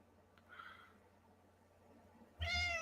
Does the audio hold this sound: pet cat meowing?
yes